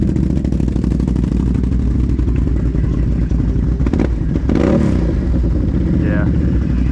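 A Yamaha XMR 570 ATV fitted with an RJWC exhaust idles and runs with a steady, rumbling mid-pitched drone, close and loud throughout, with brief rises in engine note and people talking over it near the end.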